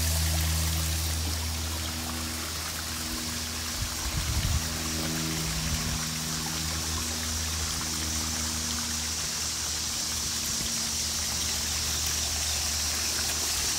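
Water trickles and splashes steadily from a small backyard waterfall, close by, with a low hum and a few soft bumps underneath.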